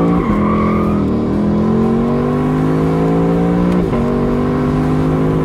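The 5.0-liter V8 of a 2020 Lexus LC 500 Convertible roars loudly and steadily close by, its pitch climbing with two quick blips between shifts, with no talking over it.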